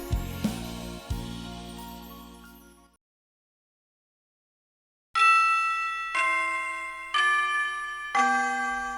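School bell ringing in the visual novel Amatsutsumi: an opening chime fades into silence, then four bright, ringing tones strike in a slow descending sequence, each decaying before the next, clear and alone.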